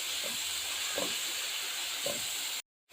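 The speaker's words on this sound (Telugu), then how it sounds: "మనం మిక్సీ కొట్టు పెట్టుకున్న పుదీనా పేస్ట్ అయితే చేసుకుందాం ఇది ఫ్రై అవ్వాలి కొంచెం పచ్చివాసన పోయే వరకు" Mint paste fries in a pan with a steady, dense hiss, broken by a few faint soft scrapes, before cutting abruptly to silence near the end.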